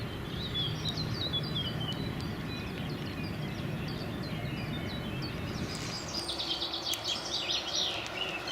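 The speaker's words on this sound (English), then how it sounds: "The chit-chat of birds and various animals distract you from your thoughts from time to time" Birds chirp and call by Lake Kemnade in Bochum, scattered high twitters carried over a steady low rumble of wind and distant noise, with a denser burst of calls toward the end.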